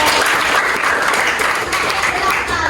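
A class or lecture audience applauds a student's answer during a teaching session, producing sustained, loud, dense clapping from start to finish with no break.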